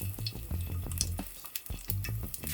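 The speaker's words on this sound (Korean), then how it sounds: "올리브 오일에 마늘 향을 조금 입혀주고 마늘을 굽는 용도거든요" Garlic fries in olive oil in a wide, tilted pan, giving a soft, quiet sizzle with light crackling pops and a few scraping stirs.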